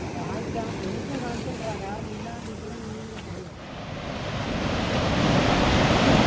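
River water rushes near a dam in a broad, steady wash that swells louder toward the end, with wind buffeting the microphone and someone speaking over it early on.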